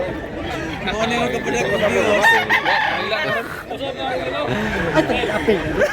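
A rooster crows amid steady chatter at a gamefowl market in Mantalungon, Cebu, the crow partly buried under overlapping nearby voices.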